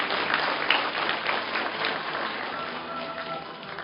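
Steady applause from the audience at a Korean university degree conferment ceremony honoring an award recipient, a dense even wash of many hands clapping that slowly eases off.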